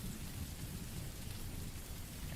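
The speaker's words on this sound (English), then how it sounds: "let me know if the background sound of the water and thunder and stuff is too loud" Steady rain with low rumbling thunder, a continuous even wash of falling water and deep rolling rumble throughout, fairly soft and without any voice.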